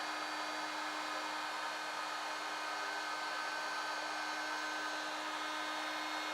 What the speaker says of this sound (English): Apply heat to the next small section for around 5 seconds.